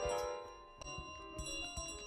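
A bell rings in Untitled Goose Game, a few bright struck tones with lingering resonance over a busy game soundscape, close and moderately loud, with no talking.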